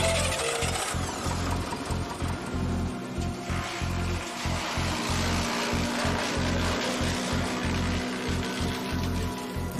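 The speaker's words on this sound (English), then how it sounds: "Branches get fed in, spinning blades grind them up, and wood chips get spit out." A wood chipper grinds branches with a loud, steady mechanical roar, chopping them into chips in rapid, uneven thumping pulses as the wood is fed through the spinning blades.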